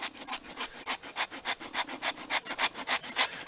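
A plain wood rasp, rounded on one side and flat on the other, is pushed by hand over a chunk of chaga mushroom in quick, even scraping strokes, close and rhythmic, about six strokes a second, with no talk.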